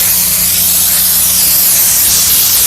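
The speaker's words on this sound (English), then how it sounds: "you can literally spray your boar hair brush with your product" A continuous close hiss of cleaning solution sprayed onto a boar hair brush for car detailing, loud and steady with no pauses.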